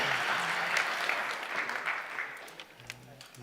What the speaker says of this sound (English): Please give a big round of applause to Amaze World